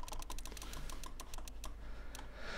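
Rapid, uneven bursts of computer mouse clicks from playing the Case Clicker game, quiet and close, with no talking.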